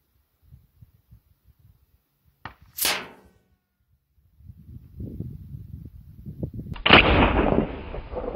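An AirForce Texan .457 air rifle fires once, giving a sharp crack followed by a brief whooshing burst, then quiet rustling builds into a broad noisy rush near the end.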